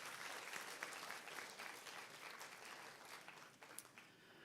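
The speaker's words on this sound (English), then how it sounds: "So a round of applause, please." Steady applause from a conference session audience at the close of a panel on risk knowledge and local resilience, a dense continuous wash of many hands clapping at moderate distance, fading slightly toward the end.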